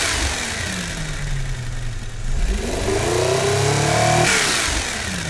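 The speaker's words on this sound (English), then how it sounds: "It's a massive engine, mechanical fuel injected," A massive mechanically fuel-injected, twin-turbocharged engine in the car-building game Automation revs up close, its pitch sweeping down then climbing steadily higher in a loud, continuous run with no talk.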